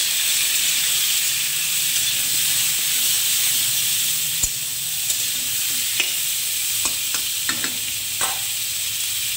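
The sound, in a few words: stirring turmeric and salt in a frying pan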